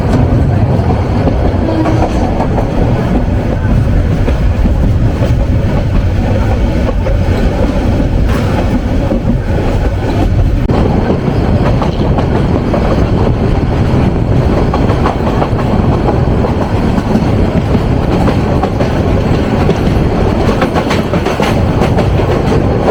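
A Turag commuter train runs on rails near Joydebpur junction in Gazipur, giving a loud, steady rumble with rhythmic clickety-clack of wheels that continues from start to finish.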